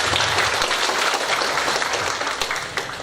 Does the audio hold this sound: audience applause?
yes